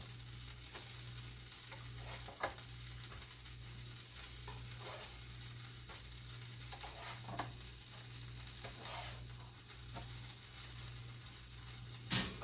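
Pancakes cook on a griddle with a steady, quiet sizzle under a low background hum. Soft scraping and tapping sounds recur at intervals throughout.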